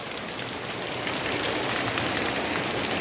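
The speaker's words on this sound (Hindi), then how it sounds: "देख सकते हैं बारिश ने किस प्रकार रफ्तार पकड़ा है" Heavy rain pours down in a dense, steady hiss that holds at full strength throughout, with water knocking on a surface.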